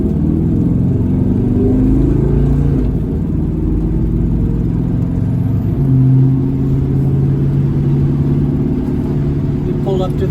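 A 1970 Chevrolet El Camino V8 with Gear Vendors overdrive and paddle shifters rumbles and revs during a test drive, its engine drone loud and continuous from inside the car.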